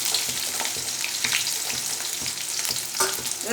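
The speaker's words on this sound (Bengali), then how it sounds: "প্রথমে আলুটা দিয়ে দিচ্ছি আলুটা একটু নাড়াচাড়া করে সব সবজিগুলো এবার একসঙ্গে দিয়ে দেবো" Potatoes and mixed vegetables fry in a pan for a vegetarian dish, a close dense sizzle broken by regular scraping stirs of a spatula.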